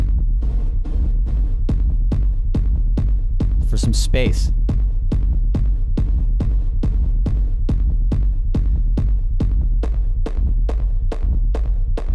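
Techno rumble kick drum with reverb, a steady four-on-the-floor pulse of deep booming hits with a sustained low rumbling tail, loud and continuous throughout, with a brief sweeping whoosh near the start and a few spoken words.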